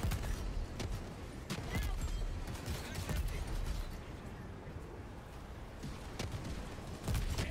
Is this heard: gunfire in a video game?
yes